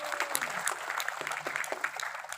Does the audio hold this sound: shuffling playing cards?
no